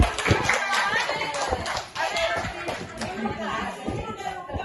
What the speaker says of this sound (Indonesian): tepuk tangan Bapak